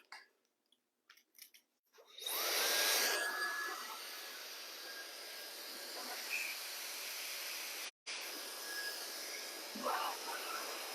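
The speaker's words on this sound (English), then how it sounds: "I like to keep the nozzle of the blow dryer a little bit distance away" A hair dryer roars to life after a few soft clicks and keeps blowing steadily with a brief cut-out midway, close by.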